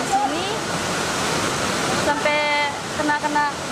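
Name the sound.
waterfall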